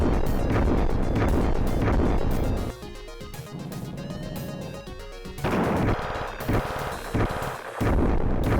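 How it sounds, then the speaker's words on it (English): Rapid synthetic shooting in a shmup video game, loud and dense, with artillery-like bursts that thin out midway and then resume at full intensity, with no talk over it. "Here I go shooting again."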